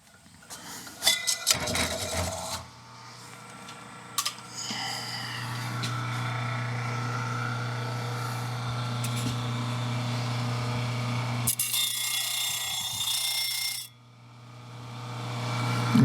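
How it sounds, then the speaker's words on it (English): Old bench knife grinder with a failing capacitor, hand-started before its motor spins up to a steady, droning hum that holds for several seconds; sharp clicks and rattles come first, and a brief bright grinding burst sounds near the end. "Now this old grinder here, I need to replace the capacitor."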